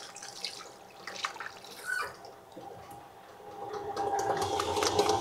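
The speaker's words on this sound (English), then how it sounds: "Wash my hands again." Tap water runs over hands at a kitchen sink during cake baking, a steady close splashing stream that swells louder toward the end, with no talking.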